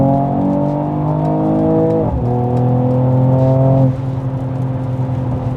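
A Mercedes-AMG GT 43 accelerating at full throttle in sport mode: a loud, steady engine drone that climbs in pitch, dips briefly at a gear change, then keeps pulling before easing off near the end.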